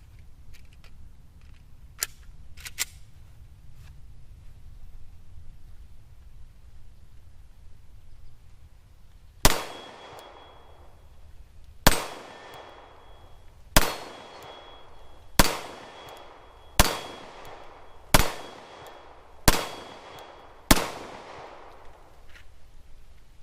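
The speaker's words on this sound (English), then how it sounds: "Two 8x8 steel plates, and we're going to go ahead and get started shooting here." Pistol shots ring out against two 8x8 steel plates at an outdoor range: eight sharp, loud reports with metallic ringing tails, spaced one to two seconds apart after a quiet stretch of faint clicks and handling noise.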